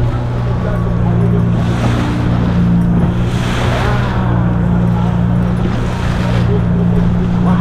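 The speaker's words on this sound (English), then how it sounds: "Wow, man, the waves," Ocean waves surge around a boat out at sea on a deep sea fishing trip off Africa, with a steady low engine drone and wind buffeting the microphone, a continuous loud wash with swells rising and falling.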